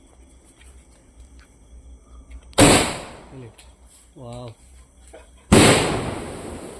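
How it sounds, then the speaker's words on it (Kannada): Diwali firecrackers from a string of crackers, set off outdoors; two sharp, loud bangs a few seconds apart, each trailing off in a crackling decay, with a brief excited voice in between. "ಒಂದು ಲಾಸ್ಟ್ ಮಾಲೆ ಪಟಾಕಿ ಈ ವರ್ಷದ ದೀಪಾವಳಿ ಮಾಲೆ ಪಟಾಕಿ ಎಂಡ್ ಮಲ್ಪುಗ"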